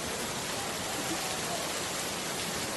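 Steady, dense rain pours without a break as a cartoon sound effect, a loud and even hiss with no voices over it.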